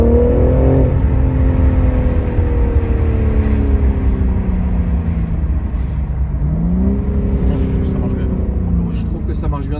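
Engine of a BMW M4 Competition revs and pulls, pitch sweeping up and down under a cabin hum, with people talking over it.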